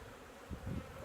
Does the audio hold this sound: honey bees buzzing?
yes